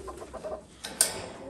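Hens in breeding pens give a few soft, close clucks, ending in one sharper squawk.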